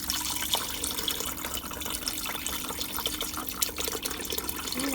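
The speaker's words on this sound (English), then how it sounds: "give it one more jug of water because I do want to fill it up" Water is poured from a jug into a cooking pot, giving a steady, splashing pour that stays fairly faint but continuous throughout, with no talking.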